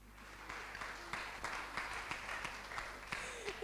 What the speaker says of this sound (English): I think this is where you want to clap your hand.